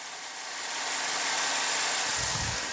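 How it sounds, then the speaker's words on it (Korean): A 2014 Chevrolet Malibu LT with an Ecotec engine idles steadily, a smooth, quiet hum that holds at an even level, with a slightly deeper low rumble near the end. "일단 바로 엔진 소리 한번 들려드릴게요."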